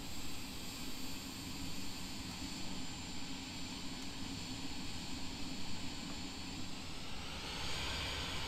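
An aircraft taxiing at Inverness Airport past the emergency vehicles on a stormy, blustery day gives off a steady, broadband engine roar with a faint whine above it. The roar stays constant and fairly distant throughout.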